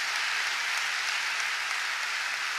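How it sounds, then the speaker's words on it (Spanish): An audience at a 70th-birthday concert at the CCK applauds, a dense, even wash of clapping that holds steady for almost three seconds with nothing else over it. "Un aplauso para Canal Encuentro"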